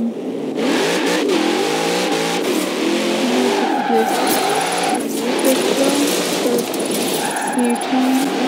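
A car drifting in the video game Forza Horizon 4 revs hard and continuously with shifting engine pitch and tire squeal, loud and sustained throughout.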